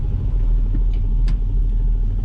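A 1977 Datsun 280Z driving at low speed, its engine giving a steady, loud low rumble with no revving peaks, heard from inside the car and close by.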